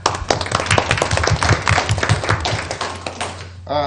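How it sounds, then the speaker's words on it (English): Audience at a school board of education meeting applauding the school nutrition program, a short burst of dense clapping in a room under a low hum, then a voice begins speaking. "If we could just give a round of applause to our SNP program."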